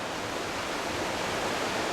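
The Smith River in flood after more than six inches of rain, a steady, dense roar of fast-moving high water filling the air without pause, close and continuous.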